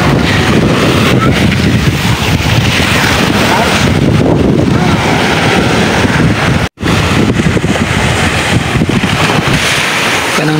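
Strong wind buffets the microphone at Lanao beach on a cold day, a loud continuous roar with surf mixed in, broken by a brief dropout partway through.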